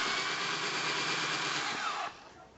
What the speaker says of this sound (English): what I'm doing is driving all the screws, just putting all the screws roughly in place to begin with.